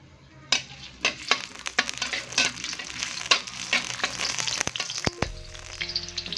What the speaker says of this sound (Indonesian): Ini minyaknya sudah panas, langsung saja kita masukkan bawang merahnya.